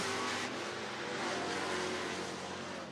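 Street stock race cars roar around a dirt track at a night main event, a steady dense engine drone filling the air without a break and no one talking over it.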